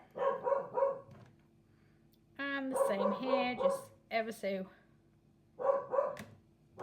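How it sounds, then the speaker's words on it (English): A dog barks indoors in several short bursts, moderately close, interleaved with someone talking while painting. "My dog's barking at something"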